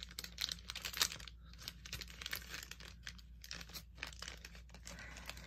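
Stickers pulled from a Beyblade Zero G Gladiator Bahamdia starter package, a steady run of close, faint crinkling and tearing of plastic and paper with small clicks, no talking.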